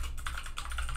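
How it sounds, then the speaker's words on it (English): Quick typing on a computer keyboard, a brief close run of light key clicks with a faint hum underneath. "it would help if I'm typing in the search bar"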